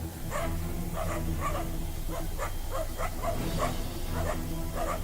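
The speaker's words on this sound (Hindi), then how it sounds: "शहर में अनजान मेहमानों को देखकर रात के पहरेदार यानी कुत्ते भी शेरों पर भौंकने लगे।" Dogs barking at night on a city street at lions that wandered into town, a steady series of repeated barks at moderate distance over a constant low droning background.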